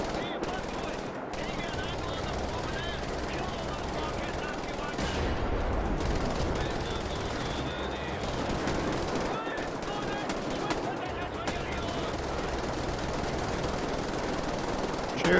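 Dense, continuous gunfire and explosions in the video game Wolfenstein The New Order, a busy battle din throughout with a voice speaking faintly underneath.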